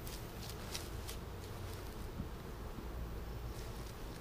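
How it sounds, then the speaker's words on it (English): A steady, faint insect drone hums continuously in the background, like many bees buzzing together in a flowering tree outdoors, with light wind noise throughout. "tree sounds like it's alive with bees"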